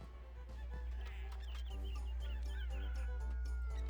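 Video game chickens cluck and squawk in short, repeated, honk-like calls over a low, steady background hum.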